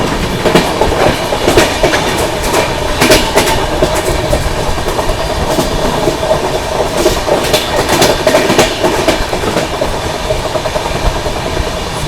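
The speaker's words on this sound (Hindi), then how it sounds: "अभी थोड़ी देर में जो है अपनी ट्रेन वसई रोड स्किप करेगी" Duronto Express train running at speed through Vasai Road station, a loud steady rush and rumble with repeated clickety-clack of wheels over rail joints, heard from on board with no talking.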